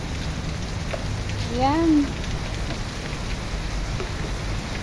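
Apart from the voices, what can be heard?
heavy rain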